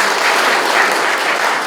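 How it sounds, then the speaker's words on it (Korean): A dense burst of loud, steady applause from an indoor audience at a security lecture event honors a film director, sustained evenly for under two seconds. "훌륭한 작품을 만들어주신 감독님께 뜨거운 박수 부탁드립니다."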